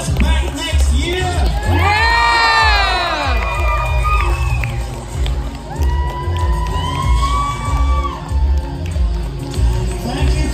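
An audience at a steampunk fashion show at Wild Wild West Con 8 cheers loudly for about ten seconds, with whoops, shouts and high yells rising over the crowd noise.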